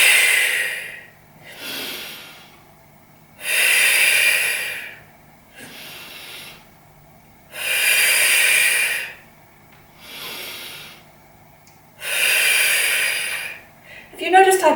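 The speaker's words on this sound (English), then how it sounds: "Breathe out." Four strong, drawn-out exhalations during a total body workout, each a loud breathy hiss lasting about a second and a half, alternating with quieter inhalations in a steady paced rhythm, close to the microphone with no talking.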